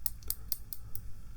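Small pair of Victorian scissors snipping five times in quick, crisp, close-up clicks over a quiet low hum, with no talking.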